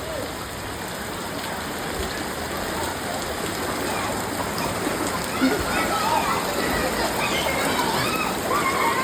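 Rain and floodwater rush in a dense, continuous wash, with water flowing around a half-submerged car; someone talks over the steady noise throughout.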